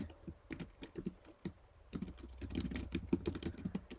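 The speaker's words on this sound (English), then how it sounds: "you can type in your email address here" Fingers type an email address on a computer keyboard in a run of quick, uneven clicks, sparse at first and then a denser, louder flurry, close by with no talking.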